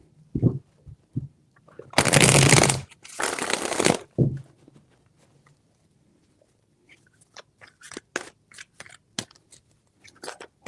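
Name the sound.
shuffling tarot cards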